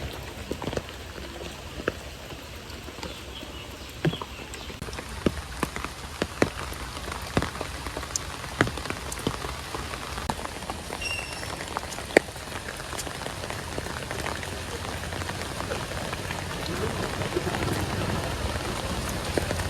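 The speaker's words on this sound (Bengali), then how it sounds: "এই যে দেখেন বৃষ্টি হইতেছে একদম পুরো ভোরবেলা থেকে" Steady rain falls through the early morning in a rural Bangladeshi village, a dense continuous patter with scattered sharper drops striking nearby surfaces, at a constant moderate level with no talk.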